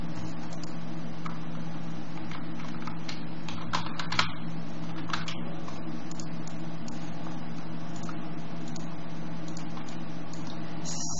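Git commands being typed on a computer keyboard running Ubuntu 18.04: steady clicking keystrokes in irregular bursts, close and fairly soft, over a constant low electrical hum, with no speech.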